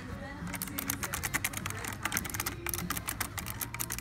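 Rapid, uneven clicking and clacking as someone presses keys on a display computer keyboard in a Target store, close and crisp over a low background hum with faint voices.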